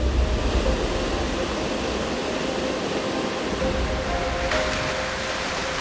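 Broad, steady roar of water draining and surging back through a filter bed during backwash at a drinking-water treatment plant, a continuous loud wash with a slight shift partway through.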